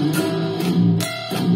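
A distorted guitar plays a dissonant metal chord progression, a few harsh sustained chords with sharp strummed attacks, loud and close, with no voice.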